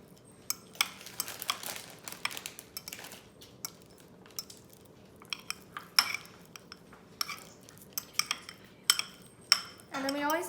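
A metal fork mashes avocado in a bowl for avocado toast, making repeated sharp scraping clinks against the dish in irregular bursts, fairly close and moderately quiet, with brief speech at the very end.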